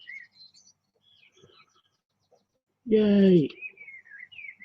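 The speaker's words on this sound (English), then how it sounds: "The birds are really loud, aren't they? Like really loud." Birds chirp in short, high, intermittent calls scattered at a moderate distance, with one brief loud spoken exclamation near them partway through.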